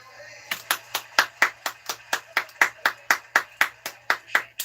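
Hands clap at a steady rhythm, about eighteen sharp claps close by, in a stadium club during a baseball game, with a faint hum underneath.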